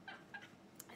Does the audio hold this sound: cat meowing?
yes